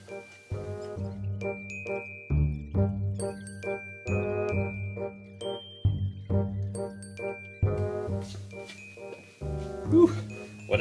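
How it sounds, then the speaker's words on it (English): Electronic school bell chime playing a repeated jingling melody of bright tones, loud and close, filling the whole stretch with brief pauses between phrases and no talk over it. "There's the bell."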